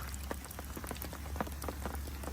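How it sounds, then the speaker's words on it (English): Steady rain spatters onto murky, coloured water at a winter carp fishing spot, a dense continuous hiss with scattered individual drop taps, fairly faint and with no talking. "And there's your rain."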